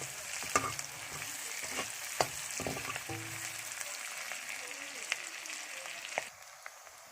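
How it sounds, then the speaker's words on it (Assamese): Onion fries in a pan for an Assamese chicken curry, a soft sizzle broken by spatula scrapes and stirring knocks that quiets near the end. "এতিয়া পিঁয়াজটো আধা ভাজ খাই গৈছে"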